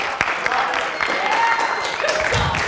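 A classroom audience applauds for the mics, a brief burst of clapping and cheering that rises, with voices talking over and around it.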